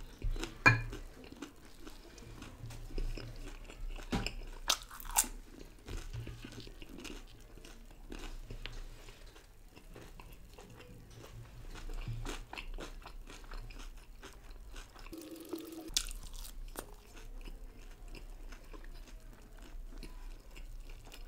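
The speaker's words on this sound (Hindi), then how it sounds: "पहले चिकन स्प्रिंग रोल्स खा लेते हैं, उसके बाद मोमोज खाएंगे।" Crunchy chicken spring rolls crackle in sharp bites followed by quieter chewing, close to the ear, with occasional clinks of dishes between the crunches.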